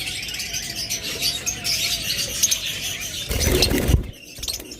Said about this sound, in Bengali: এগুলো ডিম বাচ্চা করানো পাখি।